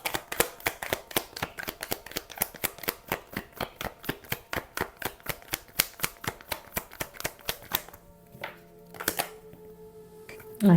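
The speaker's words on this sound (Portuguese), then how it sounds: "Ai, caiu muitas cartas" A deck of tarot cards shuffled by hand, producing a fast, steady riffle of crisp clicks for most of the time before stopping abruptly, leaving a quieter stretch with a few scattered card sounds.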